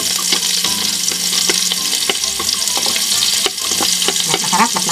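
Onions sizzling and frying in hot oil in a home kitchen while making pares, a steady crackling hiss with intermittent stirring clatter, close and fairly loud, with no talk.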